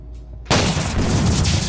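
A single loud shotgun blast goes off in Roblox Buckshot Roulette after a moment of near quiet, and its booming roar carries on to the end.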